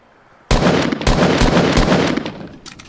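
Sniper rifle shots in a shooter game: after a short quiet lead-in, a loud blast starts a roaring volley with several sharp cracks in quick succession before it fades.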